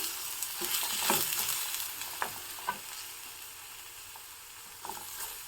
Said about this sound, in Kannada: ಇದು ಸಹ ಚೆನ್ನಾಗಿ ಎಣ್ಣೆಯಲ್ಲಿ ಫ್ರೈ ಆಗಬೇಕು ಬೆಣ್ಣೆಯಲ್ಲಿ